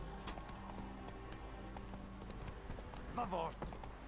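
A horse gallops in the video game Witcher 3, its quick steady hoofbeats faint under game ambience with a brief spoken voice near the end.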